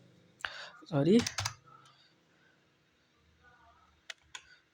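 Computer keyboard keys are pressed while Java code is typed, heard as brief clicking taps near someone speaking Hindi, with a couple of sharp isolated key clicks near the end.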